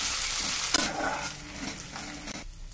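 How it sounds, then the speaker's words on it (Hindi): Urad dal tipped into a hot pan and stirred, giving a close, steady sizzle with scraping strokes and one short sharp clink. "अब इसमें उड़द की दाल डाल देंगे तरह इसे मिला देंगे"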